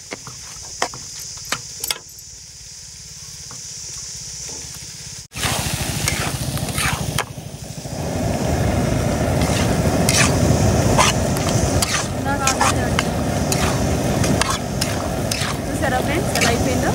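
Chicken sizzles and fries in a hot pan while being stirred, a steady loud crackle with scraping stir strokes that grows denser partway through, and a voice speaks over it.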